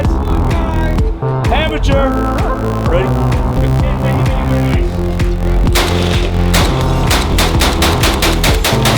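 A hydro-dipped AK-47 rifle fires repeatedly, loud sharp reports in a rapid burst toward the end, preceded by heavy buzzing and rumbling.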